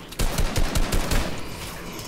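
Gunfire from an odd weapon in Fortnite, a quick run of about five evenly spaced loud shots, close and punchy, trailing into a fainter rattle.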